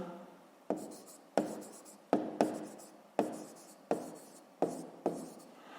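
Handwriting on paper during a sixth-grade math exercise, heard as a series of about eight crisp, separate pen strokes or taps spaced under a second apart, close and quiet, with no talk.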